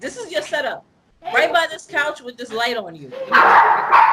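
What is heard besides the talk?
dog barking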